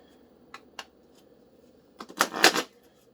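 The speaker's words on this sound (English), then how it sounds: "I always shuffle 3 times, and then I pick a card" A few isolated card flicks, then a quick riffling burst as a deck is shuffled, close and crisp, followed by quiet.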